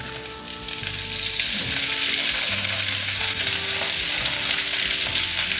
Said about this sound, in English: that garlic's already burning